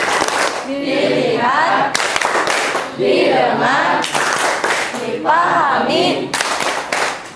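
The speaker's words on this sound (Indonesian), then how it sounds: "coba kita ini dulu deh, tepuk fokus" A classroom group claps out the rhythmic 'tepuk fokus' focus routine, with sharp hand claps in steady patterns interleaved with children's chanted words, fairly loud and close throughout.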